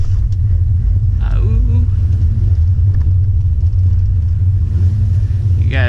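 A Mazda RX-8 rolls at about 10 mph in second gear, with a steady, close, low engine rumble running throughout and a voice heard briefly over it.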